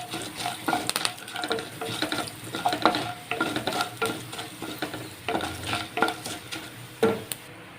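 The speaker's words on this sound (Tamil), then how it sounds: "இது எல்லாத்தையும் 2 நிமிஷம் ஃப்ரை பண்ணி எடுத்துக்கலாம்." Green chili, asafoetida and curry leaves frying in hot oil, an uneven sizzle broken by repeated scraping strokes of a spoon against the pan, close and fairly loud, with no talking.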